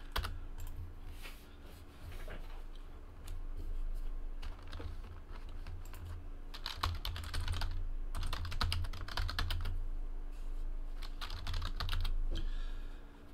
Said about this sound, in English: I'll type in TWC in the chat right here.